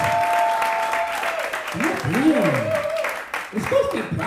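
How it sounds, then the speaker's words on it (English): A queer pride comedy night audience claps steadily throughout, a broad wash of applause with some crowd noise and tonal sounds riding over it. "What kind of weak ass clapping is that? You better clap like you made it."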